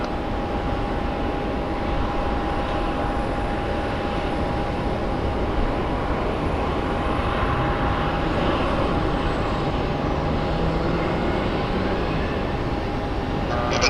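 A Southwest airliner takes off from runway 25 right at Phoenix Sky Harbor, its engines a loud, steady roar with a sustained whine that holds throughout.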